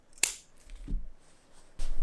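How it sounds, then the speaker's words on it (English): Sharp scissors snip away excess quilt fabric and backing, a crisp cutting snap followed by soft rustling and handling noise, close and without talk. "You need a nice sharp pair of scissors."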